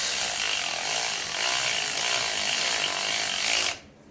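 A power ratchet snugs locking nylon nuts on a Ford F-150 leveling kit, one steady, loud, buzzing mechanical whir lasting several seconds before cutting off abruptly.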